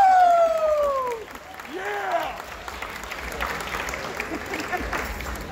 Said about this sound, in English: Let's have a big round of applause for all of our Entertainment Business Bachelor's graduates.